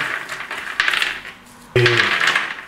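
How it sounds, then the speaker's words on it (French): Roasted almonds and hazelnuts are rubbed on a coarse-mesh sieve, giving two bursts of close, bright rattling and clinking as the nuts scrape and tumble against the metal mesh. "On peut aussi prendre un tamis à grosse maille et frotter dessus comme ceci."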